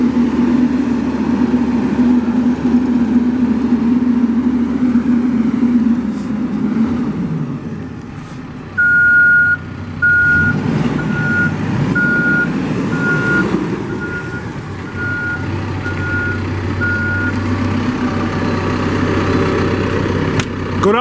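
A 2014 Caterpillar 420F IT backhoe loader runs with its backup alarm beeping in a steady, evenly spaced series over the loud, close rumble of its idling diesel engine.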